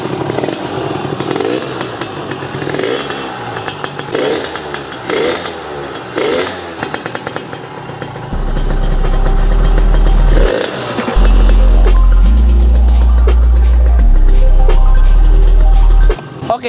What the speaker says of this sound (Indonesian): mungkin gua akan lebih afdol kalau nge-present bahwa ini motor tuh nyala.